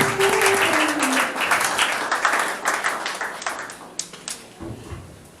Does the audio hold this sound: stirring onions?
no